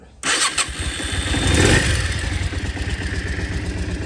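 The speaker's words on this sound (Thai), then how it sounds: "สตาร์ทเครื่องครับ" A Yamaha Dragstar 400 Classic motorcycle engine cranks and catches abruptly, revving up briefly before settling into a steady, close, rumbling idle.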